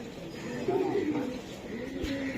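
Iranian highflyer pigeons give a soft, close, low cooing that rises and falls over a couple of seconds against a murmur of background voices.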